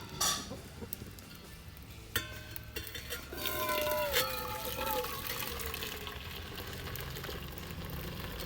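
Water pours into a pot of taro curry, a steady liquid rush that swells and then runs on under kitchen background noise, close and moderately loud.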